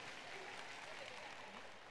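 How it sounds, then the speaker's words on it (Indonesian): An audience at a motivational talk gives a steady round of applause, a dense, even patter of many hands held at a constant level for the full stretch. "Oke, tepuk tangan buat kita semuanya."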